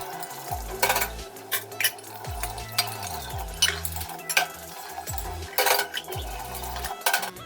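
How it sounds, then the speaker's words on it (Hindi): Dishes and utensils being washed by hand in a home kitchen after a meal, with irregular clinks and clatters of metal pots and cutlery, moderately loud, under running water, and no speech. "कुछ बर्तन थे तो सोची पहले साफ़ ही कर लूँ फिर खाना खाऊंगी।"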